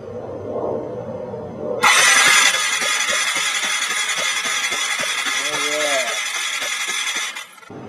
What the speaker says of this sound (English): then we'll crank it and see if we get constant spark